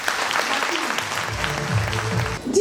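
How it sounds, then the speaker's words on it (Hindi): Clapping from an audience at a team-building training session, a short burst of applause with a voice briefly audible over it. "प्लीज इन लोगों की आप ताली बजाइए"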